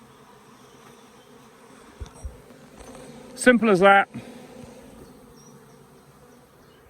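Honey bees buzz around a Mini-Plus hive being split into nucs, a steady low drone running through the clip beneath a man's close, brief speech.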